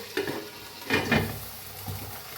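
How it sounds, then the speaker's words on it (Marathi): Masala potatoes stirred in a hot pan with fresh curry leaves, soft sizzling under a few scraping stirs, with two or three brief louder strokes against the pan, close and fairly quiet. "आता ह्याच्यात बटाटू घालूया आपण। त्याला जरा हलवून घेऊया।"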